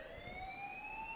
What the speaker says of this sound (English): There is a fire alarm blaring in the school.